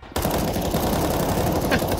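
Loud, continuous automatic gunfire from Counter-Strike 2 bursts in suddenly and rattles nonstop near the listener for the whole stretch.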